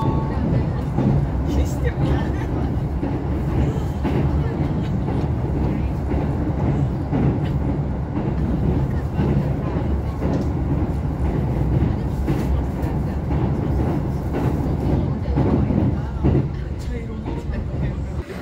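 Steady rumble of a Kintetsu Rail train travelling from Nagoya toward Nara, heard from inside the carriage as a continuous low rolling drone with faint rattles and no clear voices.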